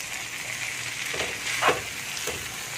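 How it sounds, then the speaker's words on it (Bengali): Noodles stirred with a spatula through spiced masala in a hot pan, a soft steady sizzle broken by a few scraping strokes, one louder scrape near the middle. "এখানে এটাকে আমি একটু ভালো করে নেড়ে নেবো এভাবে কাটি দিয়ে"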